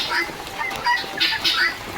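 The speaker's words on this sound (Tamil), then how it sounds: "இந்த சவுண்டு போட தொடங்கிடுச்சு உள்ளே ஏதோ ஒரு கிண்ணி கோழி கிடாக்குன்னு நினைக்கிறேன்" Harsh, repeated guinea fowl calls in short grating bursts, fairly close, with a steady hiss of rain underneath.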